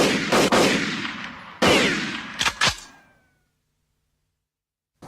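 Nerf Recon CS-6 blaster refitted with new internals, fired in a few sharp bursts: loud close pops and snaps with a short whooshing tail, a quick double shot near the end, then silence.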